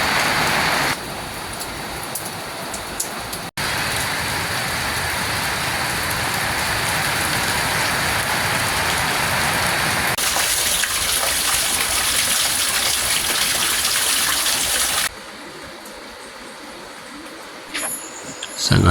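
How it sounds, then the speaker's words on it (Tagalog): Heavy rain pours down steadily in a garden, a dense, loud, continuous wash that shifts in texture partway through and eases slightly toward the end. "Grabe po ang lakas po ng ulan."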